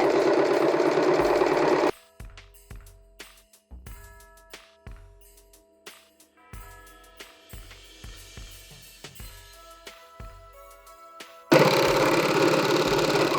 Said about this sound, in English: So let's put our napkin in and get serging.